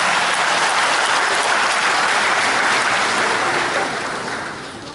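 Audience applause fills a hall at a city ceremony declaring Gumi an international safe city, a dense continuous clapping from many hands that fades slightly at the end.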